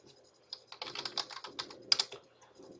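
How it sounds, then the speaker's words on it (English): Numbers tapped into a calculator keypad: a quick, irregular run of light plastic key clicks, close and fairly quiet, with a small burst of presses near the end. "So I'm going to actually type that in the calculator."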